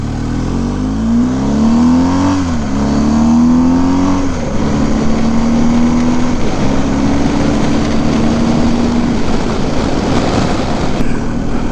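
A BMW R1250 GS motorcycle is ridden on a city road, its engine note climbing and dropping through several gear changes, steady and close, with wind and traffic rush building underneath.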